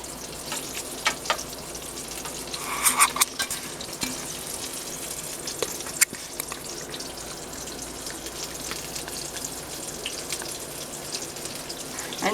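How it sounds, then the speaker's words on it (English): Green tomato slices fry in a pan with a steady, close sizzle and crackle, broken by a few brief sharper pops and scrapes, with no talking. "So this is fried green maters."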